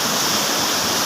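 A river in Geiranger, Norway rushes steadily down toward the sea, a loud, continuous broadband roar of flowing water close by, with no other sounds breaking through.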